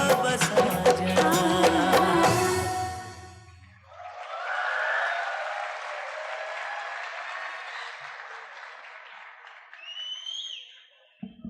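Applause from an audience at an institute valedictory function follows a musical performance, rising after the music stops as a steady wash of clapping that tapers off toward the end.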